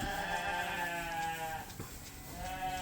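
Sheep bleating on a farm where a ram is chasing the ewes, with wavering, sustained calls filling the whole moment, fairly close and loud with no talk.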